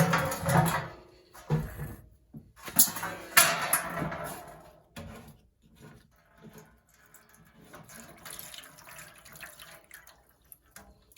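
Water drains from a Beko WMD261W washing machine's filter into an oven tray, splashing and trickling in irregular bursts with clunks and handling noises, fading to quieter dribbles toward the end.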